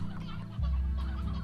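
Hens cluck in the Slime Rancher video game, a short, steady burst of low, throaty fowl sounds with no talk over them.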